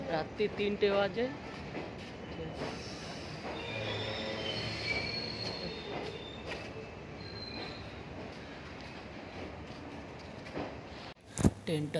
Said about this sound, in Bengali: ট্রেনটা ছেড়ে দিয়েছে।